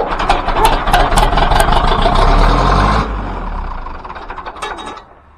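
A tractor with a weak battery is cranked through a jump-start cart, and its engine churns loudly and roughly for a few seconds before the note drops away into a quieter, uneven running sound.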